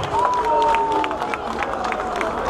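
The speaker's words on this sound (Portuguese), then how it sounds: "Uma salva de palmas para a nova secretária" Applause and cheering at a chestnut festival in Curral das Freiras as a new secretary is introduced, a crowd clapping with scattered shouts and murmured voices, plus a thin whistle-like tone near the start.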